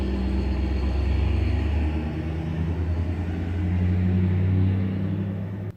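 A neighbor's Ford Mustang rumbles low and steady across the street as it pulls away, its deep engine drone swelling slightly before fading at the end. No one speaks.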